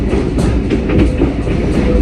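A Vietnamese sleeper train on a clifftop coastal line toward Da Nang rolls with a loud, close rumble and rhythmic wheel clatter, with no voices.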